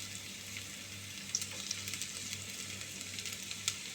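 Onion and garlic sizzle softly in a pan as the base for a spaghetti sauce, a steady low hiss flecked with a few small pops, with no one talking.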